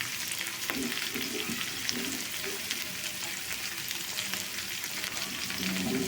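Carrot pieces going into a hot frying pan of bachelor-style fried rice with cauliflower, capsicum and beans, giving a steady close sizzle with light stirring scrapes.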